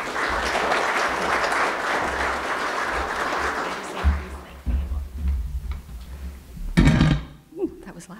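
An audience at a university geology talk applauds a speaker with a steady wash of clapping that fades after about four seconds, leaving scattered claps, knocks and a voice beginning to speak.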